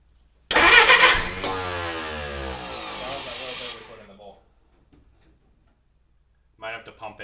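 A Willys engine cranks on its first start attempt, a loud rhythmic churning burst lasting a few seconds that fades out, followed by silence and then a short voice near the end.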